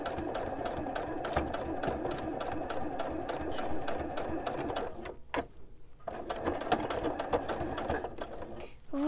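A sewing machine stitches steadily along a fabric edge in a fast, continuous mechanical whir, pausing briefly once before resuming, close and clear.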